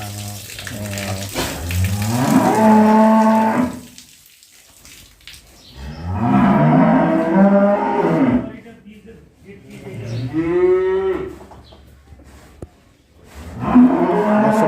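Dairy cows giving plenty of milk on a farm moo loudly and close by, a series of long, drawn-out lowing calls separated by short pauses.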